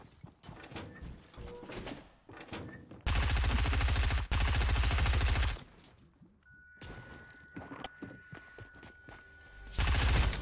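Gunfire in an online video game shooter, heard as loud sustained bursts of rapid automatic fire mixed with scattered single shots and game effects. Faint player talk is heard between the bursts.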